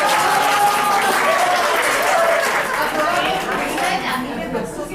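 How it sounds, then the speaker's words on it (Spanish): Audience applause at a Catholic pastoral health course class, a crowd clapping continuously with overlapping murmured chatter, steady and fairly loud, fading slightly toward the end. "Un aplauso, por favor."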